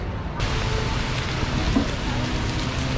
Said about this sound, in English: this is a really heavy rain